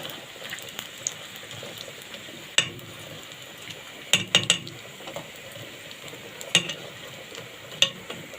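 Food for Egyptian koshari fries in a pan with a steady soft sizzle, broken by occasional sharp clinks and scrapes of a utensil stirring against the metal.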